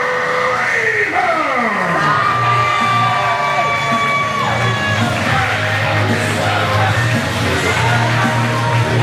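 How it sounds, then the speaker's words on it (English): Crowd at an independent professional wrestling event yelling, whooping and cheering loudly and steadily throughout, with a sustained roar and some sliding tones on top. "now a round of applause for Joey and Tommy Dreamer!"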